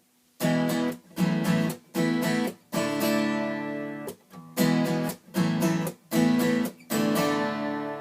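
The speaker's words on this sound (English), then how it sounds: "this is actually the riff of the song, you know, with the electric guitar" A distorted electric guitar riff plays in loud, chopped bursts with short gaps between them, repeating in a steady rhythmic pattern with no voices.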